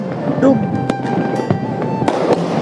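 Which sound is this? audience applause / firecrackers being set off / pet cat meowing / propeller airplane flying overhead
firecrackers being set off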